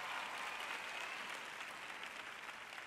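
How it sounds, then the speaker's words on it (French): An audience at a Joyce Meyer church teaching applauds steadily throughout, a dense, even wash of clapping at moderate level with no voices above it. "Je vous applaudis."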